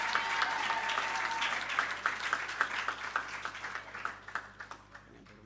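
Audience applause breaks out at a community NPO campaign launch event, sustained clapping from a crowd that gradually thins and fades over several seconds.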